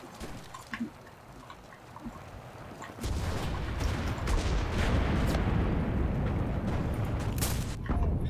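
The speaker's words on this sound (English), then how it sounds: "Yep, they're shooting at me." Gunfire in the video game Enlisted aimed at the player, a dense roar of battle with rapid shots and booms that swells sharply partway through and stays loud and continuous.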